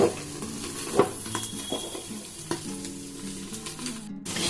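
Sliced okra fries in oil over a high flame in a covered pan, giving a steady close sizzle with a few soft clinks and crackles throughout.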